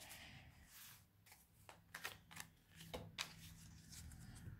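Belline oracle cards are shuffled by hand for a three-card draw, giving soft, close riffling and sliding with a few sharper snaps, all fairly quiet and without talk.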